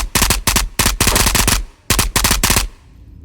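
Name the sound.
gunfire in the video game Ghosts of Tabor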